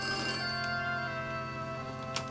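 A telephone rings in a film, a steady electronic ring with sustained tones running through the whole stretch, fairly even in level with a brief click near the end.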